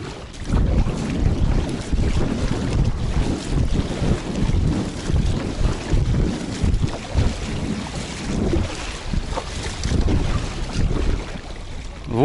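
Strong spring wind buffets loudly and continuously, roaring and gusting against the microphone, with water sloshing faintly underneath, on an inflatable kayak while fishing.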